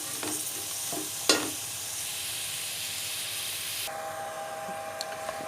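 Chopped vegetables with garlic and ginger fry in a pan, giving a steady close sizzle and hiss with a few sharp stirring knocks and scrapes, and no talking.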